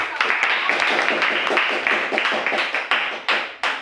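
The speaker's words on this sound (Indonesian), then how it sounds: "boleh kita tepuk tangan dulu" A burst of hand clapping from a small group in a classroom, steady and fairly loud, tapering off into a few scattered claps at the end.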